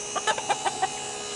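Backyard chickens at a feeder give a short run of about six soft, quick clucks, fairly close and fading to quiet.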